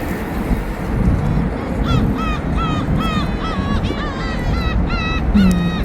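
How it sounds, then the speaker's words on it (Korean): Crows caw repeatedly in a loose, uneven series at a Han River picnic in April, the harsh calls fairly close and standing out over steady outdoor wind noise and low background rumble. "어디 가나 까마귀가 쫓아다니는 것 같아."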